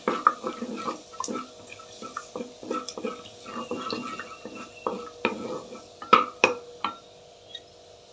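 Cumin seeds in hot oil being stirred in a cooking pan, steady close scraping and clinking of a spoon against metal with light sizzling, a few sharper knocks near the end.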